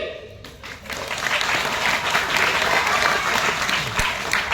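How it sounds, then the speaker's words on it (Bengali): Loud applause from a group of people, building quickly after a quieter start into dense, sustained clapping close by, with voices mixed faintly underneath. "জোরে হাত তালি"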